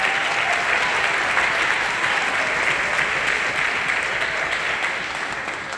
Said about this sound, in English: Please give Charles Rodriguez an applause.